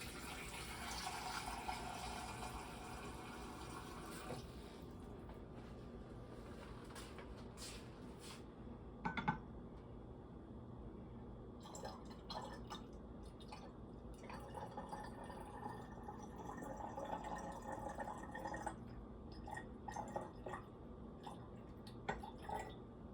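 Water poured into a pitcher of rum punch, a faint, steady trickle and splash running for a while, with a few brief clinks and quieter pauses in between.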